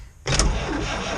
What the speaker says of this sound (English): you push this lever and it fires the truck up